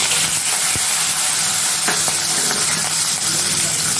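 Asafoetida and green chillies hit hot oil for a tempering, giving a loud, steady sizzle and hiss that fills the whole stretch, with a few faint clinks of a utensil.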